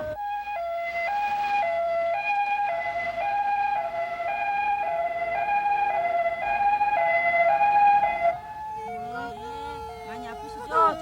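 An ambulance siren wails steadily in a stepped two-tone pattern during an emergency hospital transport, loud and continuous, then cuts off as other tonal warbles follow near the end.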